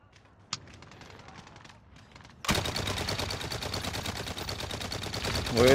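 Gunfire in Call of Duty: Modern Warfare: a sparse quiet opening with one sharp shot, then a sudden burst of sustained rapid automatic fire that stays loud and dense to the end.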